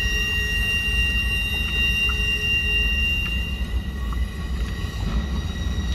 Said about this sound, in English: Two engine, freight train